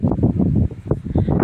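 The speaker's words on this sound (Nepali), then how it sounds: "यस्तो धेरै हावा आउँछ क्या पानी चाहिँ पर्दैन होइन हावा मात्रै आउँछ क्या" Strong, dry wind blows outdoors and buffets the microphone in loud, low, rumbling gusts that rise and fall in quick pulses.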